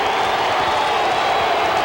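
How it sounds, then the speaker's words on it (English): A large boxing arena crowd at Madison Square Garden roars in a dense, loud, continuous wash of voices and scattered cheering after a majority decision, with no clear pauses. "A lot of the crowd doesn't like it."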